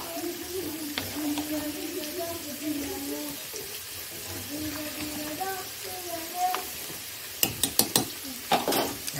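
Mutton sizzling in hot oil in a home kitchen pot, a soft steady frying hiss under a voice talking, with a few sharper clinks and stirring sounds near the end.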